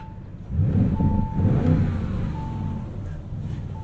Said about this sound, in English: Really deep, rumbly exhaust from this 4-liter twin-turbo V8.